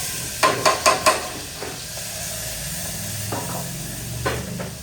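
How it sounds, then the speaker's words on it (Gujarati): Loud sizzle as asafoetida and ginger-chilli paste hit hot oil, a quick burst of crackling and spattering at first, then a steady frying hiss with a few more pops. "હવે આપણે વઘાર કરશું. તો હિંગ નાખશું, સાથે આદુ મરચાંની પેસ્ટ"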